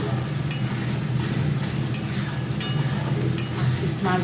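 Eight pieces of katla fish are stirred and sautéed with spices in a pan, with continuous sizzling and frequent light clinks and scrapes of a utensil.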